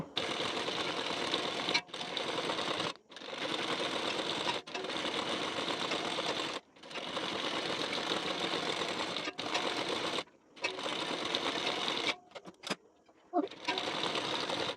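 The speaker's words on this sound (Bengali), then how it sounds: "সোজা সাইডের উপরে পট্টিটিকে ঠিক এইভাবে রেখে এখন সেলাইটি দিয়ে নেব" A sewing machine stitches a waistband strip onto a blouse in repeated bursts of rapid whirring, each run lasting a couple of seconds and separated by brief pauses.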